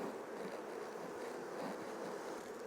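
Honey bees swarm around hive frames pulled during a beekeeping inspection, a soft, steady, diffuse buzz that hangs in the background without breaks.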